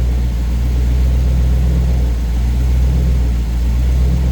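A 1970 Chevy C10 Suburban engine with Holley Sniper EFI idling steadily, a close, loud low rumble with a constant even drone and no other sounds.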